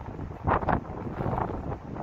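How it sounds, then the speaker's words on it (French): Wind buffeting a cheap phone microphone outdoors in bad weather beside a Volvo XC90 B5 Inscription AWD SUV, a steady rough roar with two stronger gusts early on, close and continuous with no speech. "il fait mauvais, il y a du vent, on s'excuse mais ça va faire un peu de bruit sûrement dans ce mauvais téléphone"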